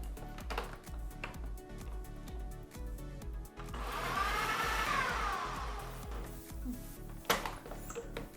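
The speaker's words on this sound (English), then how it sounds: "so let's get these blended" A blender whirs through a thick energy ball mixture, a continuous motor drone with a rising and falling whine in the middle as the blades work, close and fairly loud.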